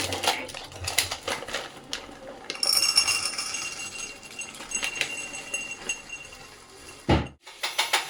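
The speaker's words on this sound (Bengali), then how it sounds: "পেস্তাগুলো আগে ঢেলে নেবো" Pistachios poured into a glass jar, a scattered run of clinks and rattling taps of nutshells against glass, close and bright, ending in a sharp knock as the jar is set down.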